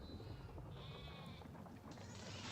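Video game sheep bleat faintly against a dense, steady background noise, a few thin, wavering cries with no voices heard.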